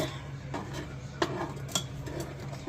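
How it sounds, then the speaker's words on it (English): A spoon stirs a stick of butter into a thick peanut butter and chocolate fudge mixture in a pot. Soft scraping comes with a couple of sharper clinks against the pot, fairly quiet and with no talking. "So now I'm going to mix this in and I'm going to stir it"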